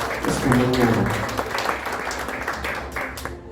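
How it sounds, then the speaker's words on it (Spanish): A church congregation applauds during a Sunday morning service, a loud burst of clapping that swells and then settles over a few seconds, with voices mixed in. "¿Por qué no le regalas un fuerte aplauso a la presencia de Dios esta mañana?"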